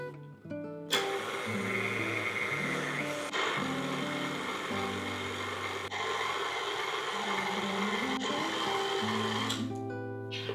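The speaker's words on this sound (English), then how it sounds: "I'm going to use my stand mixer today" A stand mixer runs on low, mixing sourdough discard sandwich bread dough, giving a continuous close motor hum with steady tonal whine and a few shifts in pitch, starting abruptly and ending near the close.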